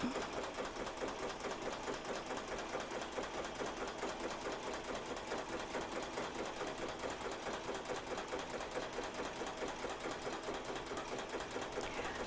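An embroidery machine runs continuously as it stitches yarn onto a sweatshirt, producing a fast, even mechanical needle rattle that stays steady and unbroken throughout, with no talking.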